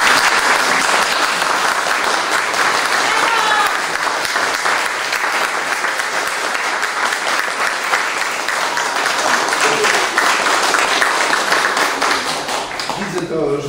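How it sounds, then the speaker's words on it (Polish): A crowd at a painting exhibition opening applauds warmly and steadily throughout, a dense wash of many hands clapping without pause. "Oklaski bardzo gorące,"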